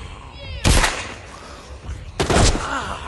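Two loud, sharp gunshot blasts in The Walking Dead: Saints & Sinners VR game, about a second and a half apart, each with a short reverberant tail over quiet game ambience.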